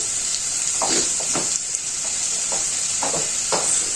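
Diced carrots sizzle steadily in a hot pan, with a constant frying hiss and occasional scraping stirs.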